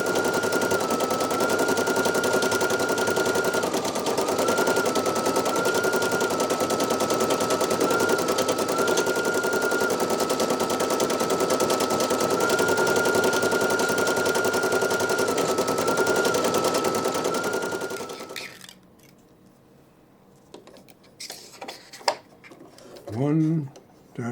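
A Brother PE900 embroidery machine stitching a photo-style design runs as a steady, rapid mechanical rattle with a constant whine for about eighteen seconds, then stops, leaving quieter handling noises and brief thumps at the end.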